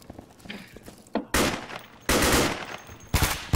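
Gunfire in the Insurgency shooter game, three loud close bursts of automatic fire with quieter scattered shots and movement between them, no speech.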